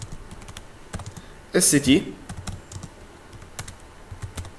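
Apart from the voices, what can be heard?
typing a SQL query on a computer keyboard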